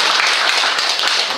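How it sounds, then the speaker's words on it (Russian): Brief, dense applause from a church congregation for a brother from the rehabilitation ministry, a steady wash of clapping filling the room. "Дима, брат, аплодисменты ему."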